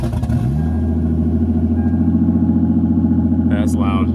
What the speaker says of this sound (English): it sounds loud too, open exhaust